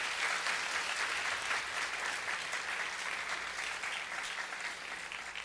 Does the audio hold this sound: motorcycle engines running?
no